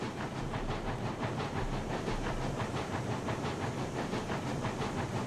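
A long steam train running in the railway game Railroads Online, with a steady, dense hiss of steam over a rapid rhythmic chuffing and rumbling that carries on without pause.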